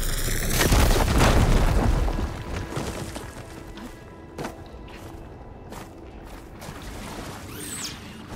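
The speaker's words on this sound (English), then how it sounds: "Should be able to blow up that fire gleam." A fire gleam obstacle in Horizon Forbidden West is blown up with a loud, deep boom that rumbles for about two seconds, followed by scattered debris thuds, crackles and smaller pops as it fades.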